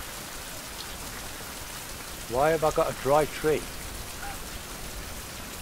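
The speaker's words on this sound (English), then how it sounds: "I wish this rain would stop" Rain falls steadily in a survival video game, a constant broadband hiss that runs throughout, while someone speaks briefly midway over it.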